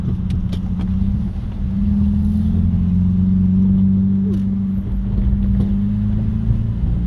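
Modified Hyundai Veloster engine drones loud and steady from close by, its pitch shifting as gears change and settling at a new level near the end, with wind buffeting throughout.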